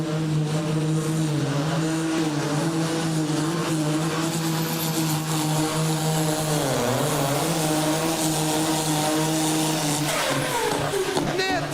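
A Supersport-class pulling tractor, the Belarus 3, roars continuously at high revs through a pull on the middle track at an ETPC tractor pulling event, loud and steady with a pitch dip midway, while a commentator talks over it.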